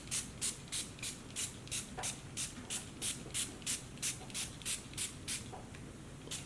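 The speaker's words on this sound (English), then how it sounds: "I'm gonna take it and I'm gonna start spraying it to my hair." A spray bottle mists beetroot juice onto hair, about fifteen short, even hissing squirts in a steady rhythm, close and soft, with no talking.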